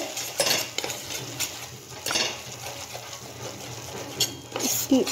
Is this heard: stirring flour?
yes